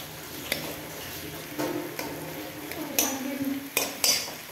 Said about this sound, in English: So let me mix it now.